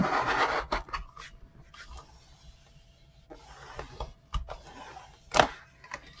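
A spatula scrapes and rubs paper down onto wet adhesive for a December Daily cover, in soft, close intermittent strokes and rasps separated by quiet pauses.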